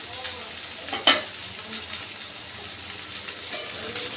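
Chicken curry stirred and fried in a pan, a close, steady sizzle with one sharp clink of a utensil against the pan, no voices.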